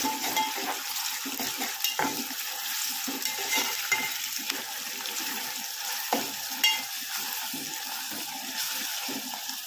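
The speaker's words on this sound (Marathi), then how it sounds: "आता आपण हिरवं वाटण टाकूया ते पण परतून घेऊया मस्त तेलावर" Green masala paste sautéed in oil with onions while cooking a dried Bombay duck curry with drumsticks: a steady sizzle with scraping stirring strokes of a spoon in the pan, continuous and close, no talk.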